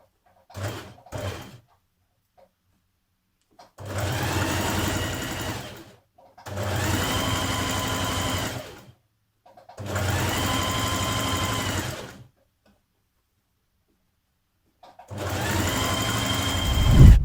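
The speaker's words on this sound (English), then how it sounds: "So today I'm going to use a slight zigzag stitch to hem my dress" Sewing machine running a narrow zigzag stitch along a jersey dress hem, in four sustained bursts of steady whirring separated by pauses, with brief handling clicks at the start.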